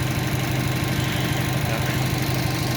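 A Subaru EJ205 turbo engine running with a knock: dense, loud, continuous rumble with a fine rapid ticking pulse throughout, heard up close with no talking.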